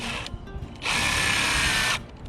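A power drill drives a screw into old wood in the garden, with a brief whir followed by one loud, steady burst of about a second, close by.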